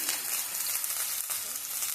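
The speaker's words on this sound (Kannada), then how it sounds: "ಆವಾಗ ನಿಮಗೆ ಸ್ವಲ್ಪ ನೀರುಳ್ಳಿ ಹಾಕಬೇಕು. ಶಬ್ದ ಬರ್ತದೆ, ಅದು ಕಾಮನ್ ಅಲ್ವಾ." Chopped onions land in very hot oil and set off a loud, dense, continuous sizzle and crackle, close up and steady for the whole stretch, with no talking over it.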